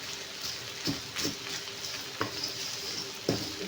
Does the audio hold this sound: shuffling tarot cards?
no